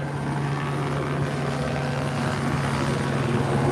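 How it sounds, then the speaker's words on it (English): A police helicopter flies close overhead with a loud, steady rotor and engine drone that fills the scene without a break. "The helicopter is annoyingly loud, but that means we're right on top of it."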